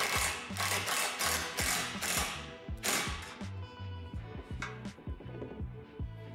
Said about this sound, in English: You'll need a 7/16 wrench and socket to tighten this hardware.